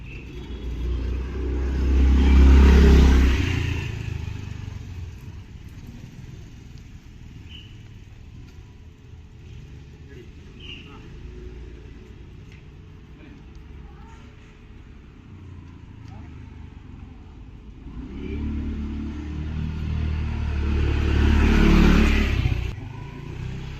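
A vehicle's engine rumbles and revs loudly close by, fades during a quieter stretch, then swells again as another loud pass builds and trails off, with voices in the background.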